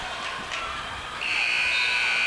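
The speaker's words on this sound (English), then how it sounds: "The shot's going to be after the buzzer." A basketball game buzzer at a high school tournament game, Doniphan vs South Pemiscot, sounds as a loud, steady electronic tone that cuts in partway and holds to the end over crowd noise in the gym.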